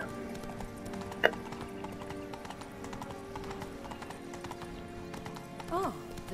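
Rhythmic hoofbeats of a horse in The Witcher 3 clop steadily throughout, with a brief whinny near the end and a faint voice talking underneath.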